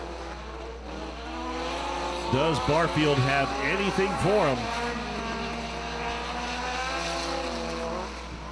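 Front-wheel-drive race cars roar out of turn 4 at Hattiesburg Speedway in a heat race, a steady engine drone with rising and falling pitch sweeps as cars pass, under continuous commentator talk and a distant crowd.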